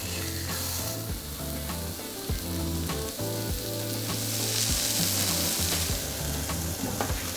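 A burger patty for a patty melt fries and sizzles steadily in a hot pan, a dense continuous crackle at close range with no voices.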